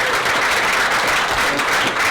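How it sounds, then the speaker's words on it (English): Sustained audience applause fills the room at a networking presentation symposium, dense steady clapping from a crowd, loud and even throughout with no pause. "let's give them a round of applause"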